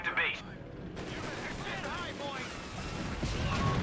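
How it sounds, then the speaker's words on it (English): Machine-gun strafing from an aircraft in Company of Heroes 3, heard as dense, continuous rattling fire that builds over the battle noise, with steady gunfire texture throughout and a voice talking over it. "And then the strafe is going to come in through that direction."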